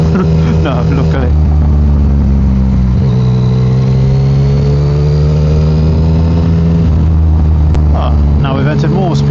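A modified Yamaha MT-09 motorcycle engine, fitted with cheap aftermarket parts, drones loudly and continuously while riding, with a few sharper revs at the start and end.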